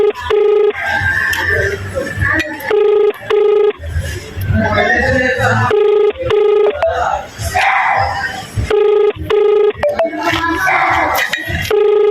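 A telephone ringing tone repeats in regular bursts with short gaps between, over a busy background of voices and noise.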